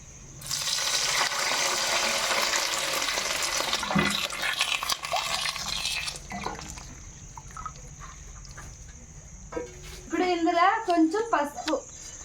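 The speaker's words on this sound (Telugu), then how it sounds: "బియ్యం పప్పు కావాల్సిన కొలత నీళ్ళు ఇందులో పోసేస్తున్నా" Water being poured into a pot of rice and lentils: a loud, steady gushing stream lasting several seconds, then quieter clinks and handling, with people talking near the end.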